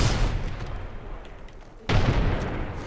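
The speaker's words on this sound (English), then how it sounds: "Tossing a grenade." A grenade in Apex Legends detonates with a sudden, heavy blast partway through, cutting through an ongoing rumble of combat noise and leaving a thick boom that lingers to the end.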